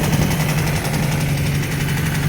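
An old Ford Escort MK3 engine idling roughly, a steady close low rumble with a continuous hum and no talking.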